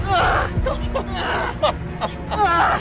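A voice imitates a woman screaming in strained, wavering cries, several bursts in a row, loud and close, with breathy gasps between them.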